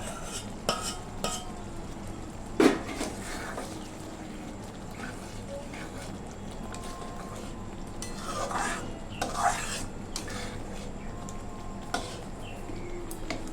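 A spoon stirs and scrapes through a pan as pre-fried prawns are mixed into thick masala for prawn malai curry, with a low sizzle underneath and occasional louder clinks against the pan.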